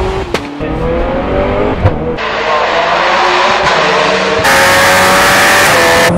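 A Zenvo TSR-S hypercar engine screams through rapid sequential gear changes, each shift a sharp break followed by climbing revs, loud and close throughout with no voices.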